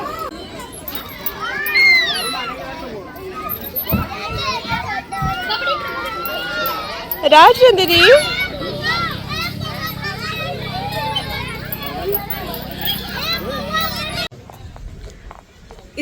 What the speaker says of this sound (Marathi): इतकी प्रचंड म्हणजे प्रचंड गर्दी आहे इकडे